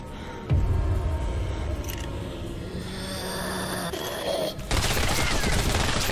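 Video game gunfire comes as sustained, dense volleys, loud and continuous, with a brief dip before another heavy burst, and no talk over it.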